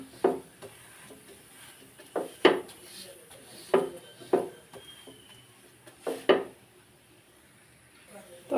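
A paratha made from maida (flour dough) sizzles in a pan while a spatula scrapes and flips it. Sharp scraping knocks arrive every second or two against a faint, steady frying hiss, close and fairly quiet.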